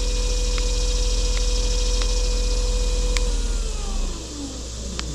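A MotorGuide trolling motor on a boat runs steadily with a constant electric hum and whine, its pitch shifting as it steps through its speeds, then dropping in level near the end; no talk.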